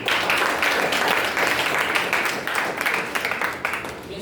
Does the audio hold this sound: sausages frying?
no